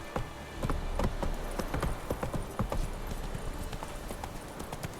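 Hooves of Roach, a horse in The Witcher 3, clop in a quick galloping rhythm, the sharp hoof hits loud and close over a low rumbling background.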